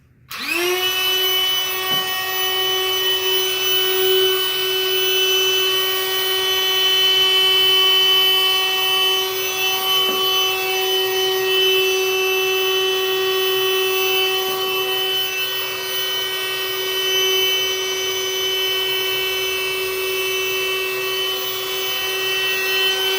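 A steady, loud electric air pump drones without a break as a Battle Bunkr inflatable bunker is blown up, with a constant whine close by and no talking.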